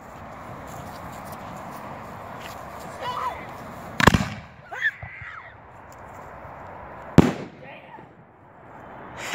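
A 3-inch firework shell launches and bursts outdoors, with two sharp, loud booms a few seconds apart amid crackling and background voices calling out.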